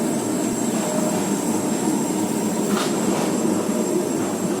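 A tram passing in Switzerland, rumbling steadily close by with a faint high wheel whine and a brief metallic clatter midway, no voices over it.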